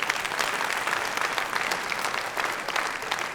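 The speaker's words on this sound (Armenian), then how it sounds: "բարձր ծափարենք Վանին, հրավիրենք բեմ։" Steady, dense applause from a studio audience welcoming a guest onto the stage of a club-style entertainment show, continuous and fairly loud throughout with no talk over it.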